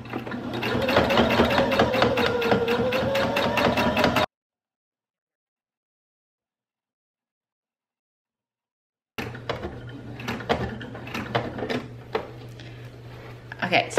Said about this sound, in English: So let's go ahead and sew around the edges.